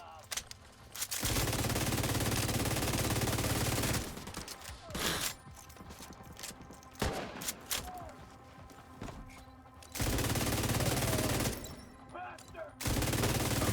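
Sustained automatic gunfire from The Division 2 shooter game rattles in long, loud bursts separated by quieter gaps with scattered shots and clicks, while a player talks at times.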